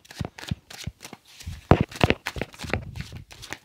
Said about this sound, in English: Shuffling off camera because it's quite difficult to shuffle on.